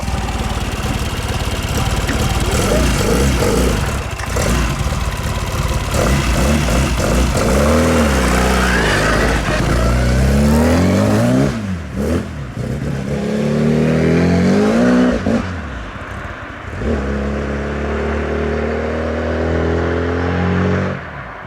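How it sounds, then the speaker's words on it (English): A Classic Mini race car's engine, still being run in, revs repeatedly, rising and falling in pitch through a loud, continuous run of throttle blips and settling back toward idle. "He's trying to take it easy with the throttle because you're still running this engine in"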